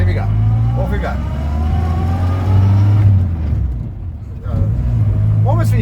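A 1958 Morris Minor 1000 four-door's engine pulls away uphill with a steady, loud, low drone that swells and dips as it labours, with a voice now and then.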